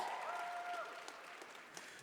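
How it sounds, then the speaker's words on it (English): An audience at a Q&A session applauds and cheers, faint and brief, with a short voice-like tone at the start and scattered claps fading out. "And then I got cheers for saying I was awful."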